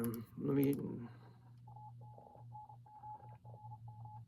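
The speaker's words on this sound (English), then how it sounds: "of course you get the Morse code at the end" A synth patch from the UVI Meteor plugin taps out Morse code as short repeated beeps in an uneven rhythm, following a brief louder musical swell at the start.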